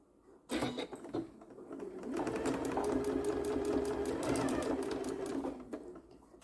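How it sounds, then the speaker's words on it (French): A sewing machine runs at close range, stitching a straight seam across the top of a Dresden plate quilt blade. It gives a steady mechanical whir with rhythmic needle ticks, preceded by a few brief handling knocks. "je vais plier le haut de ma lame et je vais la coudre droite."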